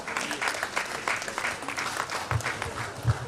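Audience applause at a professional managers' summit, honoring a governor after his address: a dense, continuous wash of many hands clapping, fairly loud and sustained throughout, with a couple of heavier thumps near the end.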